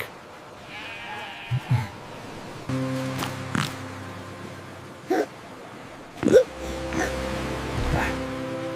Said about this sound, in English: He has hiccups.